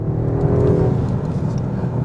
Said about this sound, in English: The engine under the hood does the job and gets it down the road.